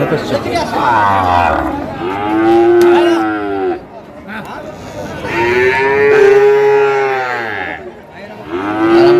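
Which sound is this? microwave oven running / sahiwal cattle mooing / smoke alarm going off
sahiwal cattle mooing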